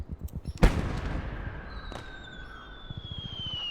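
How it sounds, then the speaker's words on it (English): A single sharp, loud blast of mortar fire from the WWII strategy game Finest Hour at the Battle of Arras, followed by a rumbling decay, with faint distant thuds and a thin whistling tone trailing after. "My mortar boys are firing on them."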